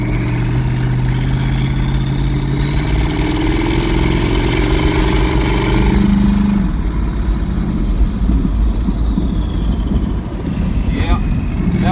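A twin-turbo, straight-piped OBS Chevrolet Silverado engine runs loud and close, a deep rumbling idle with a rising and falling turbo whistle overhead, and a voice talks over it.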